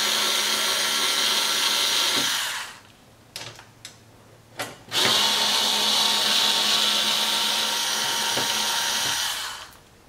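A power tool backs out T15 Torx screws from the front grille of a C8 Corvette, whirring loudly in two long bursts with a short pause and a few clicks between them.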